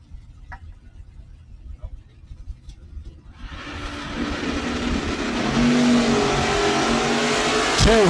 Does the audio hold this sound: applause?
no